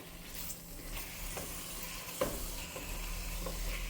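Food sautéing gently in olive oil in a pan, a faint, steady sizzle with a few soft scraping stirs and no voices.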